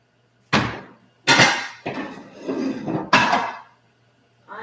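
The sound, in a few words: pans and dishes clattering while cleaning up after catering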